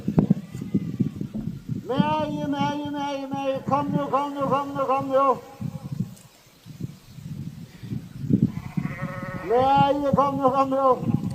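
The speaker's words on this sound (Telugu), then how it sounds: "ఆ గొర్రెలో నల్ల గొర్రెలు ఉన్నాయి తెల్ల గొర్రెలు ఉన్నాయి" Several sheep bleat in long wavering calls, some overlapping, over an outdoor background with low rumbling noise.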